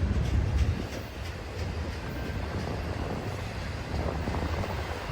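An NS intermodal freight train rolls slowly nearby as it comes to a stop, a steady heavy rumble with faint rail clatter and no horn.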